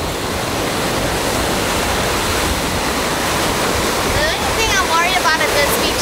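Ocean waves wash over and roll pebbles on a Bali beach, making a loud, steady rushing surf with faint chirps near the end.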